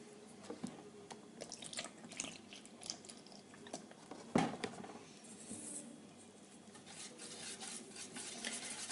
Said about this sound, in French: Et je fouette jusqu'à ce que ma pâte soit bien lisse